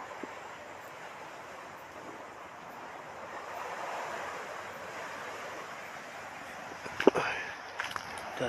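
Sea waves washing on a distant provincial shore beneath a cliff, a soft steady rush mixed with wind, with a few brief knocks near the end.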